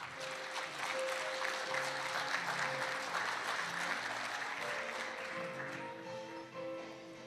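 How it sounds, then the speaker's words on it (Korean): Conference audience giving a warm round of applause to welcome a keynote speaker from the agriculture and food ministry, steady dense clapping at moderate level, with a faint sustained tone beneath, lasting the full length before thinning slightly at the close. "뜨거운 환영의 박수 부탁드립니다"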